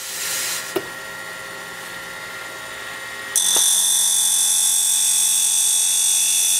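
Steady high-pitched whine of a home-built grinding setup sharpening the flute of an HSS or carbide end mill, running alone with a brief tick near one second, then louder and brighter for the second half of the pass.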